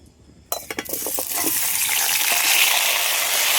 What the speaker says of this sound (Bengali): এবার আলু আর কলাটা যে হলুদ মাখিয়ে রেখেছিলাম এইগুলো এবার ভেজে নেব